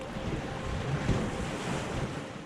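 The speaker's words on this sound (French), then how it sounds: "on en profite pour rentrer dans les grosses vagues et se rafraîchir un peu" River rapids surge and splash around an inflatable canoe in big waves, a loud, continuous rushing wash with wind buffeting the microphone and no voices.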